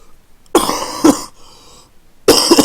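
Several harsh, close coughs from a man with a sore throat. Two quick bursts come first, then a pause with faint breathing, then another loud cough.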